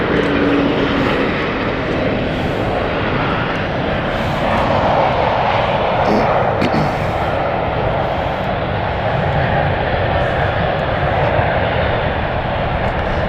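Airliner on the Chambéry service at London City Airport, its engines producing a steady, loud, broadband roar that holds evenly for the whole stretch with no voices over it.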